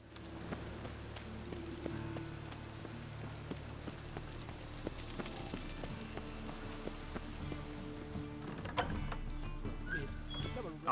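Rain falls steadily in the video game The Witcher 3, a dense pattering hiss with scattered drop ticks, gradually thinning toward the end, with a faint low hum beneath.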